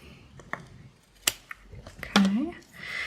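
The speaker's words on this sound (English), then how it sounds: "And then the scissors." Scissors snipping through wallpaper during a craft session, a few short sharp cuts and snaps spaced apart, with a louder scraping rustle near the end, close by.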